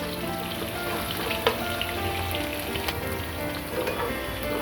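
Sliced onion lightly frying in a pan for ramen noodles, a continuous crackling sizzle with scattered pops and a couple of utensil clinks, close by and with no voices.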